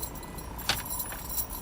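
GM car keys handled in a lock: a brief metallic clink and jangle stands out once against steady background noise, followed by a fainter rattle, with no talking.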